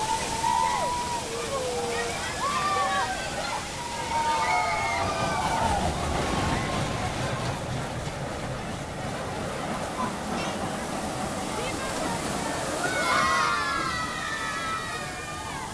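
Water rushing and splashing around a boat on a theme park water ride at Bagatelle park, a continuous churning wash with gurgles and a surge midway, while people talk and shout over it.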